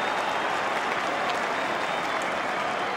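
Large AFL football crowd at a Carlton v North Melbourne match roaring and applauding after Carlton's first goal, a dense, steady wall of cheering and clapping throughout, loud and sustained with no pause.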